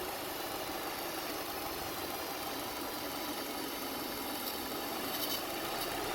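A 2005 Subaru Forester XT engine runs steadily at idle, giving a constant, close mechanical drone with no pauses and no voices.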